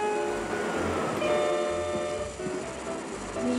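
A Class 90 electric locomotive moves out in Train Simulator 2017, giving a steady mechanical drone with faint tonal whines and a low rumble, with no one talking.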